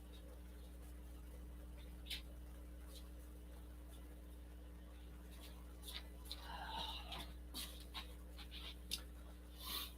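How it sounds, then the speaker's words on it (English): A husky pants softly and makes faint whimpering sounds over a steady low mains hum, with a few small scratchy noises. A person whispers or speaks quietly nearby. "Huskies are the calmest dogs that get into nothing ever and listen to every command."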